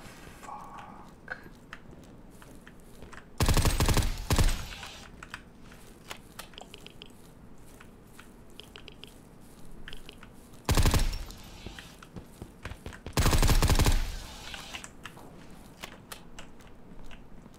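A gun fires in the survival video game Zero Sievert as three short, loud bursts of rapid automatic fire, each lasting about a second, separated by long quiet stretches with faint clicks.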